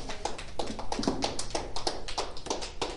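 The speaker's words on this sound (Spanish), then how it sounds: "Dale un aplauso a nuestro Dios." Church congregation clapping in praise during a Spanish-language worship service, a steady run of many overlapping hand claps at moderate loudness throughout, without speech.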